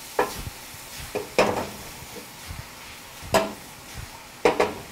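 Onions and a couple of tablespoons of sugar cook in a pan over faint sizzling, with several close, loud bursts of a spoon scraping and stirring at irregular intervals.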